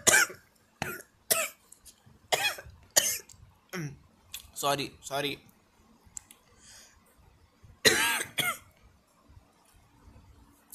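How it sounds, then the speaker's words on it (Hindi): A person gives several sharp, separate coughs and throat-clearing bursts, spread unevenly over about ten seconds with quiet gaps between them. A few brief spoken words and a soft click or two come through between the coughs. "ये सच में मुझे खांसी आई थी इस बार, रियली वाली खांसी"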